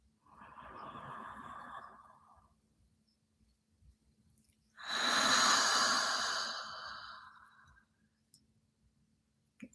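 Two slow, breathy airflows close to the microphone during guided breathing practice: a softer, steady breath, a pause, then a longer, fuller inhale, followed by near silence.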